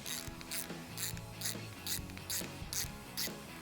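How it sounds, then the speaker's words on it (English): Hand ratchet tightening a bolt on a 2005-2014 Mustang GT coupe during a handling pack install, a close run of rapid regular clicks in eight quick bursts with no talk. "we're gonna use our ratchet to tighten this down"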